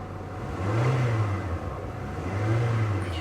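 A Volvo S60 T5 engine, low on fuel, revs up twice in quick succession, a rising droning whir that swells and falls back to a steady idle, close by.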